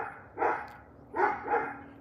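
A dog barks three times in two bursts, a single bark followed by a quick double, moderately loud and close with no talk.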